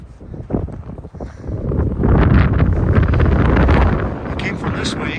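Gusty wind at a low mountain gap on a Mount San Antonio trail, buffeting the microphone with deep rumbling that swells after a quieter opening and stays loud; a voice sounds faintly beneath it.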